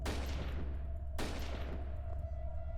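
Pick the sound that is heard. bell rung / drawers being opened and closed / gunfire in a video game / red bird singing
gunfire in a video game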